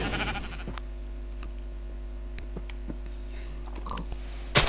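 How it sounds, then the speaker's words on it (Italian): Sheep bleating in a Minecraft-style video game, several short synthetic bleats spaced irregularly over a low steady hum and soft clicks, with a louder burst at the very end. "Pecorine."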